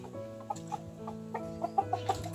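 Backyard chickens cluck in short, repeated bursts, close and clear, as they are fed alugbati leaves, the calls growing quicker and louder toward the end.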